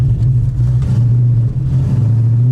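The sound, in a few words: drift car taking off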